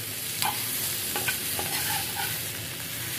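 Green chilies fry crisp in a pan with a constant bright sizzle, a few light utensil taps and scrapes breaking through near the start and middle, close and steady, no voices.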